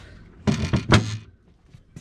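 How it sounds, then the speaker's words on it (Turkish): Cabin door on a sailboat opened by a 3D-printed ball knob handle, a short cluster of close wooden knocks and a thunk, then quiet. "Bu şekilde kapıyı açıyoruz."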